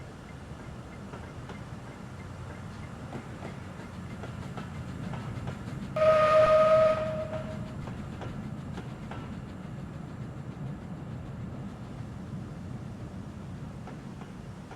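Neilson Box Tank 0-4-0 saddle tank steam locomotive, an early-1850s design from UK light industrial and mineral railways, recreated in Train Simulator, rumbling steadily throughout with a short shrill whistle blast around the middle.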